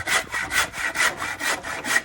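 A hand saw cuts through wood in steady back-and-forth strokes, about five rasping passes, close and unaccompanied.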